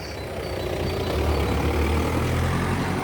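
A car drives along a narrow track beside an old ford on a UK country walk, its engine rumble loud and close. The rumble swells as it approaches and holds steady and heavy to the end.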